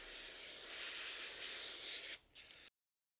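Brake cleaner sprays from an aerosol can inside a pressure washer pump's rear cover, a close, steady hiss lasting about two seconds, then a short break and a brief final burst.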